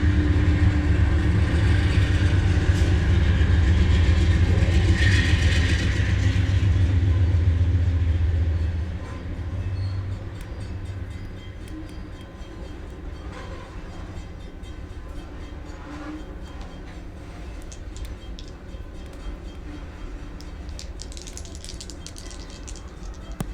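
A train rumbles and rattles loudly in a tabletop game's ambient soundtrack, a heavy low roar that eases after about nine seconds into a steadier, quieter clatter of rolling wagons.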